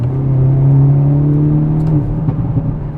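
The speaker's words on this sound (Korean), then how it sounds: "팝콘 소리도 4000 RPM 넘어가면서" Hyundai Avante N engine revving hard with a wet dual-clutch eight-speed transmission, a loud sustained rising drone that drops off near the end, with faint crackles from the exhaust.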